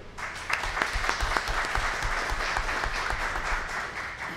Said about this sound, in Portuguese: Vou pedir uma salva de palmas para ele.